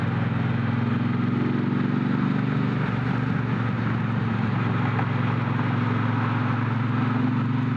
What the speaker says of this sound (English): This engine puts out a sweet song.